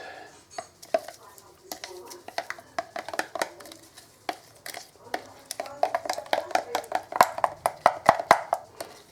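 Ingredients with half a teaspoon of basil are mixed in a bowl for a pizza, giving irregular clinks and scraping knocks that grow busier and louder toward the end.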